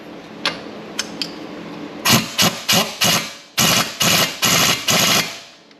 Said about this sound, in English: Now I am going to use my impact gun on very, very low strength here.